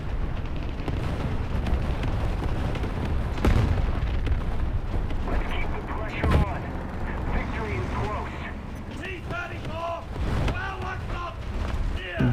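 Cannon shell from a Russian IS-2 heavy tank's 122 mm gun striking an enemy tank turret in War Thunder Mobile, a deep boom over rumbling engine and battle noise, with a voice talking through it.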